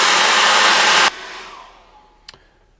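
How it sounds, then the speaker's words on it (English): A hair dryer blows loudly on acrylic paint, a steady close whoosh that cuts off abruptly about a second in, leaving near silence broken by one small click. "Now I'm going to dry that off with my hairdryer"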